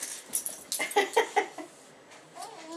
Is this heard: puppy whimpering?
yes